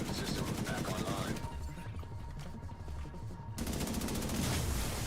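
Bursts of AK rifle fire in a first-person shooter game, rapid automatic volleys with sharp impacts, a brief lull in the middle before the shooting resumes loudly, with a voice talking over it.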